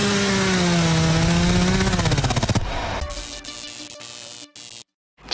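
A chainsaw revs loud and close in a horror film trailer for a Texas Chainsaw Massacre 3D movie, its engine pitch rising and falling before cutting into choppy sawing bursts, a short silence, then a jolt of noise.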